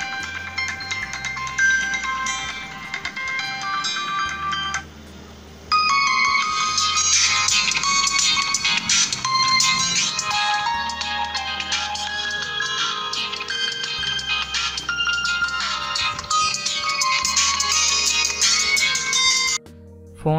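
A melodic electronic ringtone plays from a QMobile Noir J7 phone's rear loudspeaker, looping a bright chiming tune repeatedly for about twenty seconds, fairly loud and tinny.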